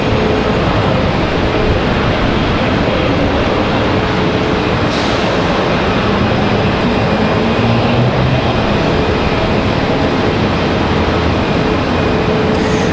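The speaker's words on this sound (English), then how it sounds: "That 777 finally moving." A Boeing 777 rolls at Charlotte Douglas airport, a steady broadband jet roar filling the scene at close, loud level throughout, with no break or fade.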